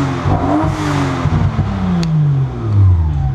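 A car engine cold-started and revved, its pitch climbing and falling in loud sweeping harmonics, with a rising rev near the end, close and alone.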